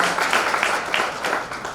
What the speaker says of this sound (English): May we clap for him in his absentia.